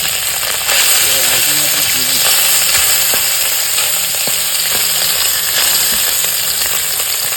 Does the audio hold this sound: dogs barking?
no